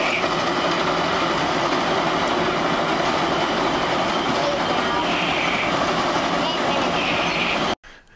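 A triple-header steam train on the annual Rainier Rambler excursion run by Rails Northwest produces a loud, steady rolling roar that continues for about seven and a half seconds and then cuts off abruptly.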